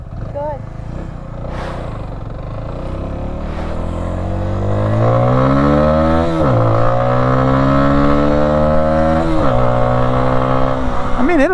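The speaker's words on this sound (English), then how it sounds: "Let's hear your engine." A CFMOTO UTV engine revs hard and close, its pitch sweeping upward in repeated climbs, dropping sharply between gear changes before rising again.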